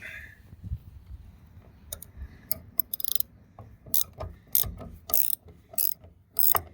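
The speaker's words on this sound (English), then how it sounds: "Okay, pull these 3 8mm out." A ratchet backing out 8mm fine-thread bolts on a Ford F-150 fuel door, rapid clicking bursts in short irregular runs, close and crisp, with a few handling knocks between and no talking.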